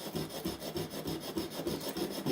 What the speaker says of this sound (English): So you take the edge and you actually go along the length of the entire edge, cutting that way.